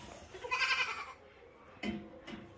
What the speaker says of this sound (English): Baby goats, especially when they're first born, they're pretty freaking cute.